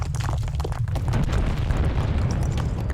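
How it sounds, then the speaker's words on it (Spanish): Volcanic eruption explosion of Nevado del Ruiz: a loud, continuous deep roaring rumble laced with crackling bursts and pops, sustained throughout with no speech. "una tremenda explosión sorprendió a los habitantes de San Pedro y Patiburrí, en la parte alta"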